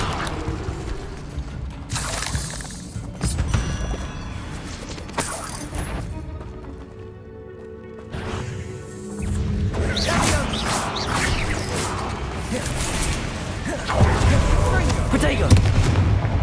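Explosion spells and combat blasts from the Hogwarts Legacy video game, a series of loud booms and crackling bursts over several seconds with a brief quieter gap, and a voice speaking between them.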